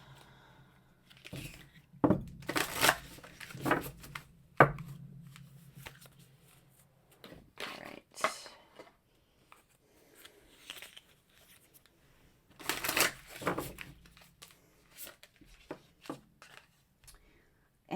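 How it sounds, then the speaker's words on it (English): Oracle of Mermaids and Arcana tarot cards are shuffled and pulled: soft riffling and card-flicking bursts at close range, scattered with pauses and light rustling. "We're going to pull 3 cards from the Oracle of Mermaids."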